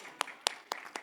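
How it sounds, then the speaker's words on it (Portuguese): Four slow, distinct handclaps ring out at even intervals in a church service, faint and spaced with a quiet room murmur between them. "salve de palmas, pessoal"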